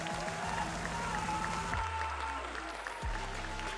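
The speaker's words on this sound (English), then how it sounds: "Give a round of applause for mrekk." An audience applauds at an esports 1v1 tournament grand final, a wash of clapping under a low droning background that shifts partway through.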